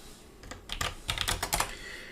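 Keys on a computer keyboard are struck in short irregular bursts while a command is entered in a terminal for a Windows 11 virtual machine setup, close and fairly quiet with no talking.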